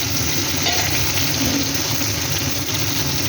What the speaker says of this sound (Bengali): বেগুনগুলো ভাজতে দিয়ে দিলাম বেগুনগুলো লাল লাল করে ভাজা হবে